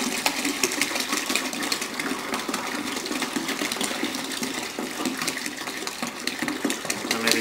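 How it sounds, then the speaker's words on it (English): Water gushes into a beer brewing bucket in a loud, continuous rushing splash, close up and steady for several seconds, with no talking. "I'll pour in the water too. Yep. Splash it really good."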